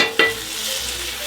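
Butter sizzles softly as it melts in a frying pan. A short clink at the start gives way to a faint, steady hiss, and no one speaks.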